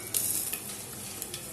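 Whole spices such as cloves hitting hot oil for a veg pulao, a soft continuous sizzle with a few brief crackling pops near the start, no talking.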